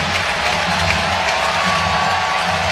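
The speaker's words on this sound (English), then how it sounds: "Crowd making noise." Baseball stadium crowd roaring and cheering steadily at a Brewers versus Blue Jays MLB regular-season game, a dense continuous wash of voices with no clear breaks.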